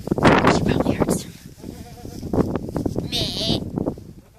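Goats bleating on a farm, several short calls mixed with voices, with buzzing insects nearby and some people talking between the cries.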